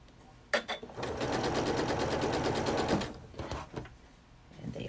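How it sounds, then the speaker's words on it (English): A sewing machine stitching quilt backing pieces together runs in one steady, rapid burst of about two and a half seconds, set between a few brief clicks and handling sounds. "we'll sew these pieces together"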